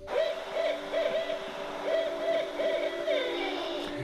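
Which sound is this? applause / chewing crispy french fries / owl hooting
owl hooting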